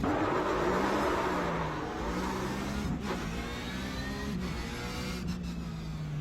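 A race car in the iRacing sim revs hard on the starting grid, then launches, its engine note climbing steadily and holding loud and continuous throughout.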